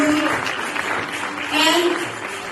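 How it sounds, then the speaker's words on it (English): Audience applause for a championship robotics team from the FIRST LEGO League, a steady wash of clapping that swells louder midway, with some voices and cheering mixed in. "Give them a huge round of applause."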